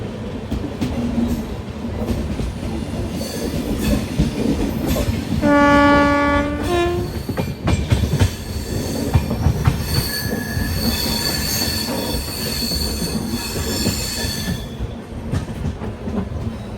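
The Tirumala Express passenger train rumbles steadily along the rails near Nandalur, heard from a general coach, with a loud wheel squeal and a sustained horn-like tone rising above the clatter midway through.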